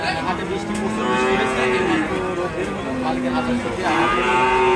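Holstein Friesian cattle moo repeatedly at a rainy livestock market, long low calls overlapping from several animals nearby, amid a busy outdoor crowd murmur.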